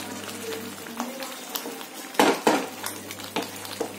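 A spoon scrapes and clinks against a pan as kasuri methi is stirred into dhaba-style shahi paneer, several metallic knocks and scrapes over a faint sizzle, with one louder clatter midway.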